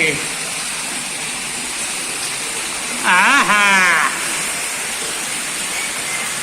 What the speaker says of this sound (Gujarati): જો કેવું ઉભરાય કૂવામાં પાણી